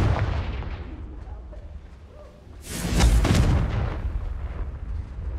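The Confringo spell bursts in the Hogwarts Legacy video game, a heavy booming explosion swelling midway through over a constant backdrop of rumbling game ambience.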